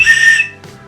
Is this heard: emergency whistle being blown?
yes